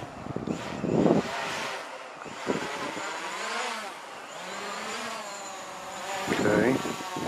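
A small camera drone flies in to land, its high buzzing rotors rising and falling in pitch as it maneuvers close by, with some wind rumble on the microphone.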